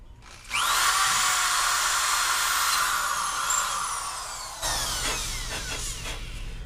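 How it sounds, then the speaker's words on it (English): A power drill whirs up loudly and runs steadily for several seconds, drilling out holes in a metal hinge on a bicycle locker door, its pitch sagging slightly as it bites, then continues more quietly with faint clatter. "we're going to drill out each and every one of these holes"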